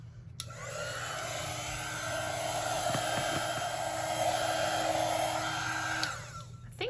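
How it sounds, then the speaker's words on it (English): A heat gun blows over craft paint with a steady, close rushing whir that starts abruptly, holds at constant loudness for about six seconds, then cuts off. "I'm gonna try to dry this with my heat gun"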